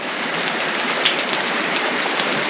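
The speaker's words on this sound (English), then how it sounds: "and then the rain starts" Rain drumming on a tin roof at an Australian bush hunting camp in Victoria, a loud, close, steady patter with scattered sharper drop hits, continuous throughout and without any voices.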